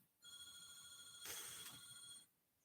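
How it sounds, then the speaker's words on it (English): A telephone rings faintly in the background, one continuous electronic trill lasting about two seconds before stopping, with nobody speaking. "course the phone's ringing. I'm not answering it."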